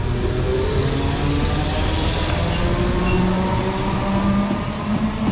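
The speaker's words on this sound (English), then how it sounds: "Also approaching is our train, the 11:07 service to Seaford" A Class 313 electric train, unit 313216, approaches on the East Coastway line as the 11:07 service to Seaford, a loud, close, continuous rumble with thin, drawn-out wheel and brake tones sliding over it.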